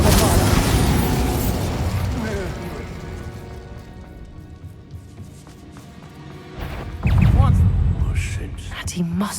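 Incendio and Bombarda spells go off in Hogwarts Legacy, with an opening blast that fades into a low rumble and mechanical clatter, then a second heavy explosion near the end. Whispery voices sound faintly beneath.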